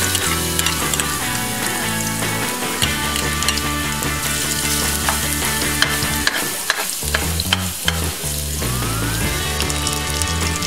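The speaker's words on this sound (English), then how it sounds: "Now put your ginger aside and saute your garlic into the pan." Garlic sautés in a pan for Ilokano igado, a steady broadband sizzle and stirring that runs throughout under prominent background music.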